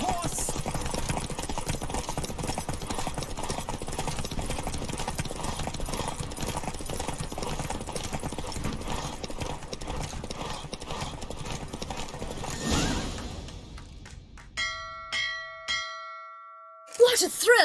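Galloping horse hooves in The Witcher 3 pound in a fast, continuous rhythm close up, then fade out as bright bell-like chimes ring in the closing seconds.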